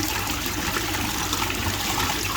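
Water trickles and splashes steadily inside a homemade 25-litre trickle tower, a continuous broadband wash of falling water that stays even and close throughout with no voices.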